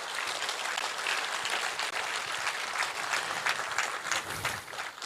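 Audience applause for MS Dhoni, captain of the Chennai Super Kings, at the India Cements 75th anniversary celebration: steady, dense clapping from a large crowd, sustained and fairly even for several seconds without talk.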